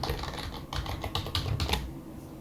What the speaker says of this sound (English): I'm just going to type some password here